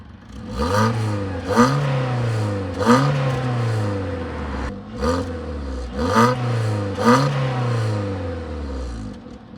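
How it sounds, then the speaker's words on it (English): A VW Polo Vivo Highline engine revs repeatedly, each rise and fall of induction roar repeating about every one and a half seconds, loud and close with no talk. "it makes a particularly nice little Unique induction sound"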